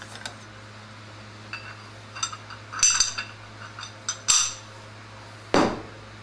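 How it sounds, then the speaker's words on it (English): Metal clip tapped into a KYB motorcycle fork's outer tube with a seal driver, giving a handful of short, sharp metallic taps spaced irregularly, near and fairly quiet over a steady low hum. "Gently tap it in with the seal driver."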